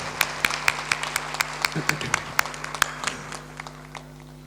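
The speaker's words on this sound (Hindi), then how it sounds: "ताली बजाकर अभिनंदन करें।" Scattered audience applause at a religious discourse gathering, a sparse rhythm of separate claps from a small crowd that thins out toward the end.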